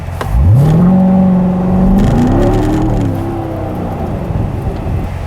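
A C7 Corvette Stingray accelerates hard on a rain-soaked road, its engine note climbing loud and close in a rising revving sweep, then settling into a steadier roar with a wet rushing hiss beneath.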